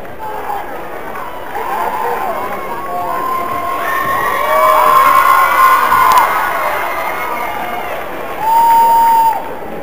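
A high school crowd at a playoff pep assembly cheers and shouts for the cheerleaders, a loud, continuous roar of voices with children's yells and whoops that swells in the middle and surges again near the end.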